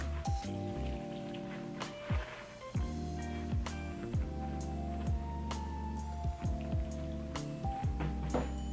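Water poured into a potted houseplant during indoor repotting, a steady trickle with soft splashes and occasional light knocks and clicks, no talking.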